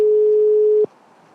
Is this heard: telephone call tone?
yes